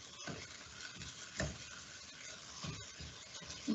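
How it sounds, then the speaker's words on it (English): Ground pork and garlic frying in a pan give a close, even sizzle, broken by repeated stirring scrapes against the pan. "I hope you guys can hear all of the sizzling"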